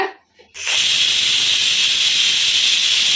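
A pressure cooker cooking chickpeas lets out a loud, steady steam whistle that starts abruptly after a brief quiet moment and holds as a continuous high hiss.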